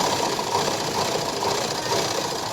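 A sewing machine topstitches the joined seam of a lined blouse sleeve, running in a steady, continuous mechanical whir at close range with no pauses or talk.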